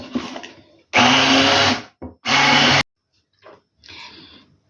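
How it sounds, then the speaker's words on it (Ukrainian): A blender whirs loudly in two short bursts with a brief pause between, mixing oil and pepper into salad dressing, then stops; fainter clicks and a softer whir follow. "і перебиваю все блендером"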